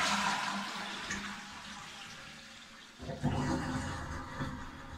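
Water gurgles and rushes as a bathroom sink siphon empties into the sewer pipe during a vacuum valve demonstration, a steady noisy flow that surges louder partway through.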